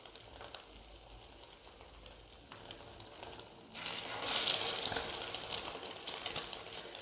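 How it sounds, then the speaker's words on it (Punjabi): Egg-dipped shami kebabs shallow frying in a pan over a medium flame for an egg shami burger, a steady bright sizzle that swells louder partway through and holds, with no talking. "ਅੰਡੇ 'ਚ ਡਿਪ ਕਰਨ ਤੋਂ ਬਾਅਦ ਅਸੀਂ ਇਹਨੂੰ ਮੀਡੀਅਮ ਆਂਚ 'ਤੇ ਸ਼ੈਲੋ ਫਰਾਈ ਕਰਨਾ ਹੈ"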